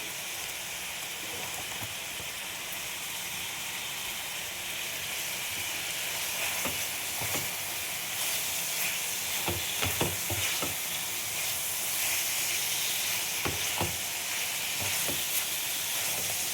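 Koi fish sizzles in oil with a little Kashmiri red chilli powder as it is stirred and sautéed, giving a steady soft frying hiss broken by louder scrapes and clacks of the spatula in the second half.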